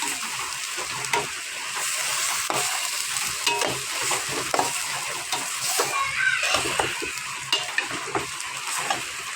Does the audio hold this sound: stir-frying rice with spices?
yes